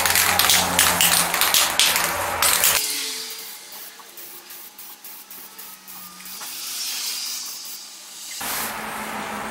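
Short bursts of spray paint hiss out as a second coat of red goes onto brake calipers, with a loud stretch at the start, then a quieter hissing stretch and another burst at the end, no voices.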